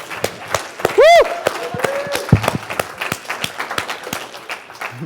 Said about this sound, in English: Max, let's give a round of applause for Max.